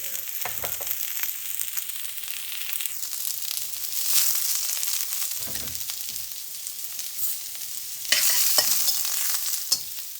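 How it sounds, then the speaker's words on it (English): Onions, peppers and chilies fry over very high heat in a pan, sizzling steadily and loudly while being stirred, with scraping and tossing bursts breaking through the hiss, and no talk. "You want to fry those for about 2 minutes so we get the raw taste off them."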